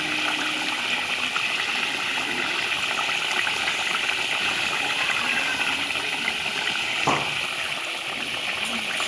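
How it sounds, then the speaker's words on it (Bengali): Spicy curry gravy boiling at a steady rolling bubble in a pan as pieces of bhola fish are added. A continuous close hiss and gurgle runs throughout, with a brief splash near the end. "ঝাল ঝোলটা ফুটে উঠেছে, এবারে ভোলা মাছগুলো দিয়ে দেবো এক এক করে"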